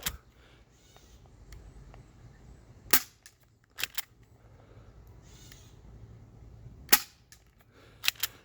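Air gun shots aimed at cans from ten meters: about five sharp, isolated cracks spaced several seconds apart over a quiet outdoor background, with faint bird calls between them.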